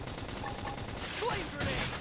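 Rapid gunfire bursts from a squad battle in the video game Xenoblade Chronicles X, steady and dense across the whole moment, with a few electronic whooshes mixed in and no voices.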